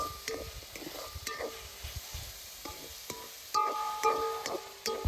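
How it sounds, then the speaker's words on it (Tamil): Two cardamom pods fry in hot oil, giving a soft, close sizzle broken by small crackles and a few sharp clinks of a utensil stirring in the pan, with no one speaking. "வாசனைக்கு 2 ஏலக்காய் சுத்தம் போட்டுக்கலாம். பொரியுங்க எண்ணெயில்."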